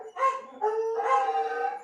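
A dog bays excitedly as its owner arrives home, giving three rising howling yelps in quick succession, close and clear with no speech over them.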